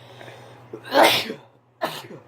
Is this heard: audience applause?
no